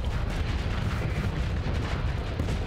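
Missiles and guns fire without pause in the space combat game Starsector, an Executor star destroyer against a battlestation, making a dense, loud wall of booming blasts and rumbling explosions.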